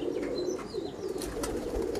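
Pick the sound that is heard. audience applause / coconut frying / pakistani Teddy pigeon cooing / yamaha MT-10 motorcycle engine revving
pakistani Teddy pigeon cooing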